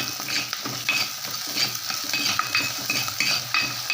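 Onions sautéing in oil with salt in a pan for a garlic-rich kuzhambu, a continuous close sizzle with a spoon repeatedly scraping and stirring against the pan.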